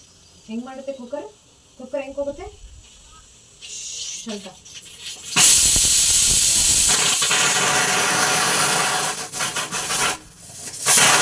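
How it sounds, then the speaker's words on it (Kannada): A pressure cooker in a home kitchen lets out a loud, sustained hiss of escaping steam that runs for several seconds, following a few moments of nearby talking. "ಕುಕ್ಕರ್ ಸೌಂಡ್ಗೆ ಎದ್ಕೋತಾ ಇದ್ದಾನೆ"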